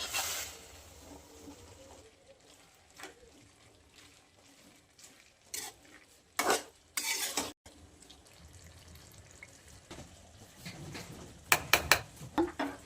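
Methi and peas vegetable mix tipped into a pan and stirred, a few sharp clattering bursts and scrapes standing out over a low background hiss, with a louder cluster of stirring near the end.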